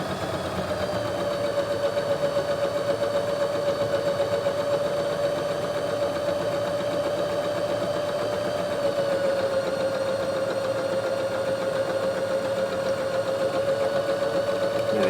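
A sewing machine runs steadily while stitching the French seams that join an apron's front and back, a continuous close hum with an even whirr and no pauses, alone with no talk.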